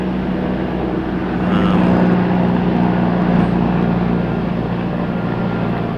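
A helicopter flies over a croquet championship ground, a steady distant engine and rotor drone that swells slightly and then eases, continuous throughout under open-air background.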